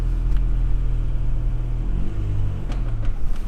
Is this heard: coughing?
no